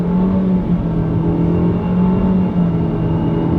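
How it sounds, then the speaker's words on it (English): A 2020 Renault Duster with a turbo petrol engine and CVT gearbox pulls away at full throttle, its engine holding a loud, steady droning hum from inside the cabin. "I am going to give this a full pedal to the metal"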